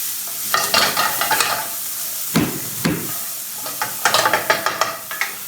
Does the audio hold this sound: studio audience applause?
no